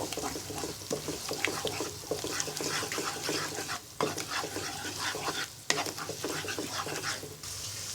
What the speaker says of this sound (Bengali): নেড়ে ফেটিয়ে নিব